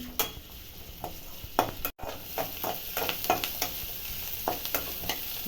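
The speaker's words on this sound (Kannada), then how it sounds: "ಬೆಳ್ಳುಳ್ಳಿ ಮೆಣಸು ಸ್ವಲ್ಪ ಫ್ರೈ ಮಾಡ್ತೀನಿ" Garlic and chili frying in a pan, a steady soft sizzle with repeated stirring scrapes and clinks of a spoon against the pan, close and moderately quiet, no voices.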